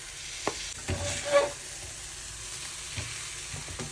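Cooked vegetables for upma are stirred and mixed in a hot pan, making a steady low sizzle. Scraping and stirring strokes rise and fall over it close by.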